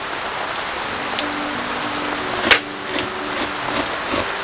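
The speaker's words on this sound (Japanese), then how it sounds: "雨がまた強くなってきましたね。" Heavy rain pours steadily onto a campsite at a highland campground, a dense close hiss with scattered louder drops and one sharp tap against tent or gear.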